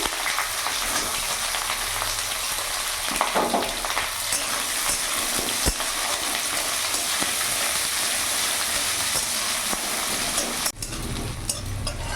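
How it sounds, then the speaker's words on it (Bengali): Chopped onion frying in hot oil with cumin, bay leaf and dried chili, a steady close sizzle with stirring scrapes that holds for the whole stretch, a brief clatter near the end. "এরই মধ্যে আমি কুচনো পেঁয়াজ দিয়ে দিলাম।"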